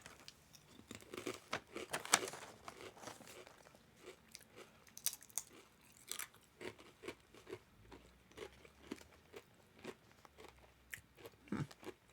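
Someone bites and chews small, crunchy fried wheat snacks up close, giving a dense run of crisp crunches and crackles with scattered softer chewing noises in between.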